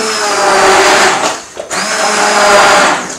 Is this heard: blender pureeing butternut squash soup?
yes